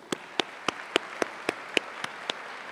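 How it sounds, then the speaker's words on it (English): Audience at a high school scholarship ceremony welcoming a speaker, heard as about nine sharp, evenly spaced claps in a steady rhythm, close and distinct rather than a blended crowd roar. "Please join me in welcoming her with a round of applause"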